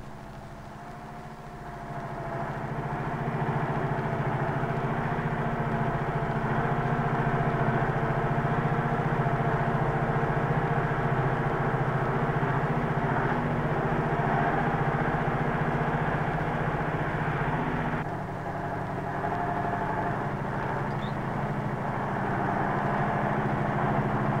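A KrAZ truck's engine idles steadily during a maintenance check, a loud, even low rumble with layered tonal hum that runs on without a break and shifts slightly in tone near the end.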